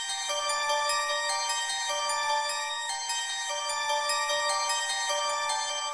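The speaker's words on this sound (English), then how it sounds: "together the bell and the reversed bell sound like this." Layered bell melody for a track, a forward bell doubled by a reversed bell: bright, shimmering tones in a steady repeating pattern, loud and continuous with no voices.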